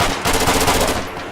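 Rapid bursts of video game gunfire from a cheater report match, loud and continuous with automatic-weapon rattling throughout, no talk over it.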